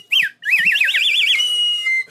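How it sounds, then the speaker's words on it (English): A slide whistle plays a quick rising and falling swoop, then a longer wavering warble that settles into a steady held tone, loud, close and alone. "we getting the slide whistle again?"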